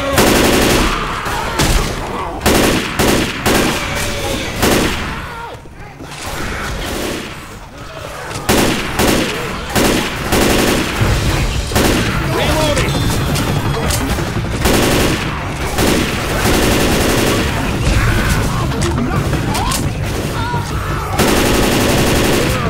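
Dense, sustained gunfire from the zombie shooter Left 4 Dead 2 rattles on almost without pause: rapid automatic bursts mixed with single shots, loud and close, with a brief lull partway through.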